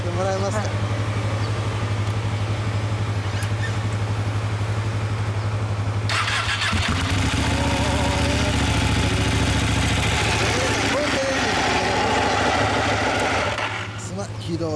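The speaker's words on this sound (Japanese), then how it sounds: "エンジンかけてもらえますか？" A 2016 Ducati 899 Panigale motorcycle with a stock exhaust: a low steady idle hum gives way around the midpoint to the engine firing up into a louder, rougher running note, then settles, with voices heard nearby.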